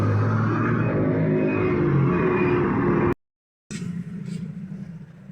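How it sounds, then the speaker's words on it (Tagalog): Honda Zoomer-X scooter engine running close by with a loud, steady mechanical rumble, cut off by a brief silence before it returns and idles. "Umandar naman yung motor."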